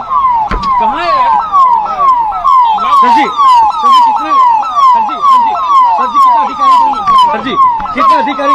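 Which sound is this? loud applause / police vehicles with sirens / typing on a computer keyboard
police vehicles with sirens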